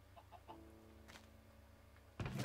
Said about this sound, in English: you just press this button, and another chicken falls for you to hit